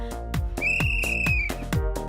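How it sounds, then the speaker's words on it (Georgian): A shrill whistle sounds in one long sustained blast, loud and close, over a background of rhythmic thumping. "სასტვენის ხმა გაისმა"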